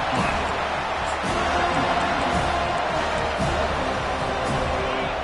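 Video game football stadium crowd noise, a dense continuous roar of cheering fans with scattered claps, steady and moderately loud throughout.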